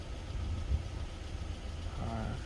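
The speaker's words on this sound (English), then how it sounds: "She rev hunted to about 600 and bounced back up to about 800, which is where it should be sitting." Suzuki Swift engine idling with a hunting idle, the low steady rumble dipping and then rising again near the end, heard up close and alone.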